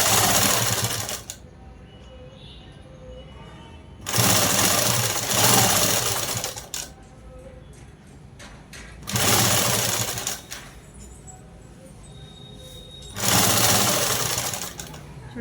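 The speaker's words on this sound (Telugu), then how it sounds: "ఇంకా డైరెక్ట్ కుట్టు అయితే వేసేస్తున్నాను." Sewing machine stitching a seam while resizing a blouse, running in four loud bursts of steady whirring, each a couple of seconds long, separated by quieter pauses with faint low background sound.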